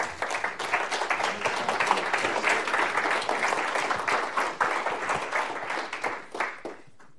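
Audience applause welcoming Senator Tom Cotton to the podium for remarks on crime and justice, a steady, dense wash of clapping from a crowd that holds for about seven seconds before tapering off.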